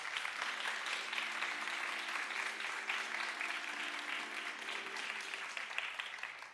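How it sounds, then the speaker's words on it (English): Faint, steady applause from an audience during an interview session continues evenly for several seconds beneath a low electrical hum. "I think we should give you a very large round of applause."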